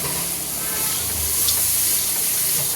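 Fried eggplant going into a hot pan of vegetable curry, a steady loud hiss and sizzle that holds evenly for a few seconds, heard alone without talk.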